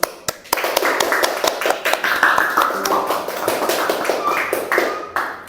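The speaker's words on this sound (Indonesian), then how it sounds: "Tepuk tangan dulu." An audience at a combat event claps loudly and steadily, many sharp hand claps overlapping in a dense continuous burst close to the microphone.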